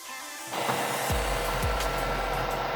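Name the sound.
Epson WF-2860 printer initializing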